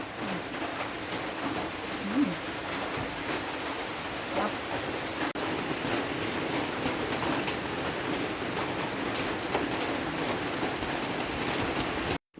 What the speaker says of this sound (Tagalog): umuulan po ngayon dito